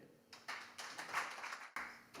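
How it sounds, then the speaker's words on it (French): A small bistro audience at a poetry night claps for a poet, a few sparse, fairly quiet bursts of hand claps that start and stop unevenly. "Mesdames et messieurs, je vous demande d'applaudir Martimo, s'il vous plaît."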